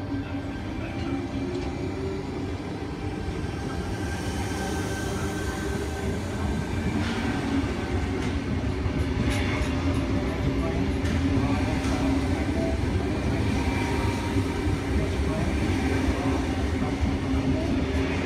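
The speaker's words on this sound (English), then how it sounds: "Departing platform 4, we have T2 leading an all station service to Hurstville." A Sydney T2 all-stations train to Hurstville departs platform 4 at Wolli Creek, its motors and wheels rumbling steadily and close, with faint squeals and clicks rising as it pulls away.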